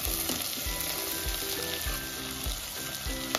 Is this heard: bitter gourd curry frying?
yes